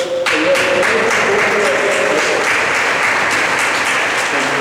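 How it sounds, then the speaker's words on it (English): A crowd claps steadily and continuously, close and loud, with a voice briefly heard at the start. "All can come outside and have a clap for yourself."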